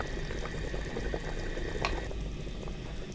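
Yakhni broth for biryani simmers in a pot after about ten minutes of cooking, giving a continuous close bubbling and fizzing with small pops throughout.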